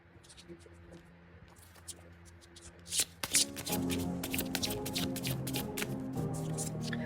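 A deck of Thai fortune-telling cards is shuffled by hand, with light riffling and taps at first, then a dense run of close, crisp card flutters.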